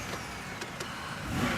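A car's ignition clicks a couple of times before the engine turns over and starts, its low rumble swelling briefly and close by.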